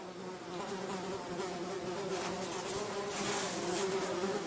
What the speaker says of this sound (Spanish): con este zumbido de los insectos de fondo